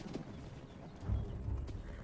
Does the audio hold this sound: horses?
yes